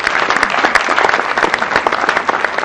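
A French-speaking audience claps loudly and steadily for an honoree, dense applause filling the room for several seconds without a break.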